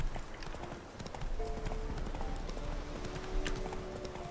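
Horse hooves clopping steadily on the ground while riding in The Witcher 3, a soft continuous rhythmic patter under ambient game sound, with brief faint tones in the background.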